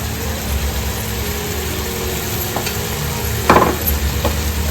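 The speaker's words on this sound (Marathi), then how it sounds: "आता ते सर्व पुन्हा एकदा मिक्स करून घेणार आहोत" Oysters frying on a flat pan with sour flavouring, stirred and mixed: a loud, continuous sizzle close up, broken by a few scraping clacks of the utensil against the pan.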